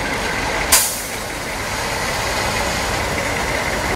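Military trucks and armored vehicles idle at an army parade in Abuja, a steady engine drone with a short sharp hiss like an air brake release near the start.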